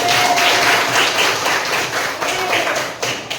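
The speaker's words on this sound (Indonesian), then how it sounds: "Oke, tepuk tangan." Classroom applause from a group of PPG teacher-training students after a lesson, steady dense clapping with some taps running close and fairly loud for a few seconds.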